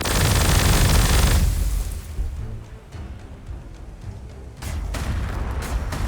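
Necron Gauss Flayer weapons fire in the strategy game Gladius: Relics of War, a loud booming volley that fades after about a second, with another burst of blasts near the end.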